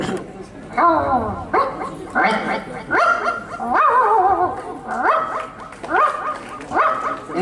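A puppy yelps and barks in about seven short, rising, whining calls, close and fairly loud, spaced steadily one after another.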